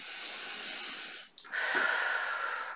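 A slow, deep breath drawn in through the nose, close and soft, with a brief pause before a longer, airy inhalation.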